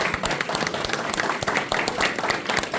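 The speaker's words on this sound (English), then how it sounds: "So please give them a round of applause." An audience at a college preparedness workshop gives a student research group a round of applause, with dense, even clapping throughout and a few faint voices mixed in.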